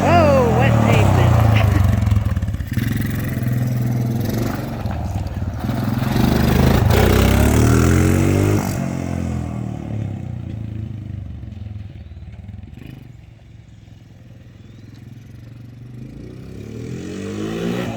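A 2003 Honda 250EX ATV engine runs loud and close with rough revving at first, then fades to a quieter idle, and people talk over it.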